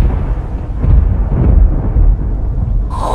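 Thunder rumbles in the Supernatural video game, a deep, loud, rolling storm boom lasting a few seconds before fading into a higher tone.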